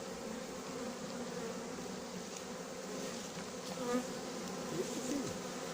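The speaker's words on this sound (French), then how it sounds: "Je m'inquiète pour les abeilles qui sont par terre." Honeybees buzz around a hive during a swarm collection, a dense steady hum of many wings close by, continuous and fairly soft with no voices.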